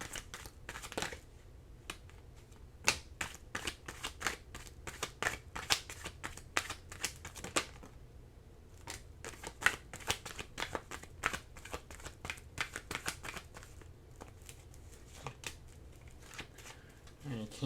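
Tarot cards shuffled by hand in repeated quick riffles and flicks, crisp papery snaps coming in bursts with short pauses, close up.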